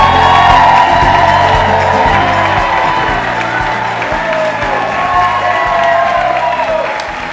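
A full-house audience at a live breakfast show cheers and applauds, a dense, loud wash of clapping and whoops that stays steady and slowly eases, with background music underneath.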